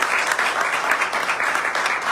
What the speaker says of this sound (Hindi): खुदा के पाक रूह के लिए एक दफा जोर से ताली